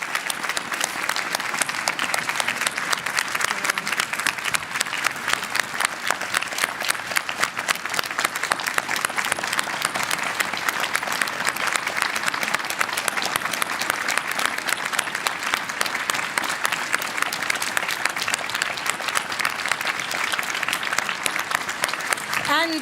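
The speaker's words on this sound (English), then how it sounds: "big applause also to our other winners" Audience applause at the International Children's Peace Prize 2024 ceremony honouring the winners: a dense, steady wash of many hands clapping that carries on without pause for over twenty seconds, with occasional voices mixed in.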